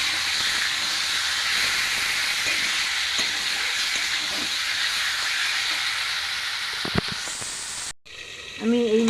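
Chicken sautéing under a lid in a pan for a kasuri methi chicken curry, giving a steady close hiss and sizzle with occasional small pops, ending with a brief voice after the sizzle cuts off.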